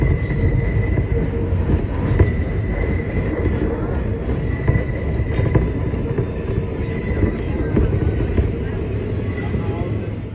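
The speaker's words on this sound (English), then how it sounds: "the 7 train through this part of Queens is really cool" A New York City Subway 7 train runs through Queens with a steady, loud broadband rumble of wheels on rail, faint squeals and clanks on top, continuous and close throughout.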